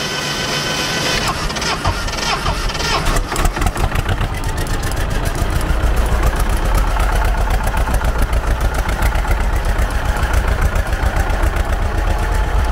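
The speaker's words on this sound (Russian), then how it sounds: "крутим мотор" A turbo tractor engine with a decompressor is cranked over and catches, then settles into a loud, close, steady idle with a fast, even mechanical chatter that runs through to the end.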